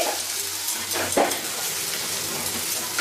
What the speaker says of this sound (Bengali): কেটে রাখা রসুন কুচিগুলো গ্যাসের ফ্লেমটা কিন্তু আমি হাই করে রেখেছি এখন এগুলোকে দিয়ে অল্প একটু নাড়াচাড়া করে নিচ্ছি